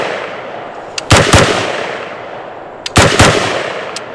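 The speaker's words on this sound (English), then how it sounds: "All right, let's throw a few rounds down." Gunshots from an MK18 AR pistol at a shooting range, two tight bursts of loud, sharp cracks about two seconds apart, each preceded by a faint click, close and with no talk.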